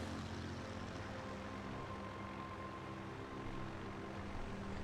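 Carrier aircraft droning overhead in World of Warships Legends, a steady propeller-engine hum with faint tonal lines, continuous and fairly quiet, with no talking.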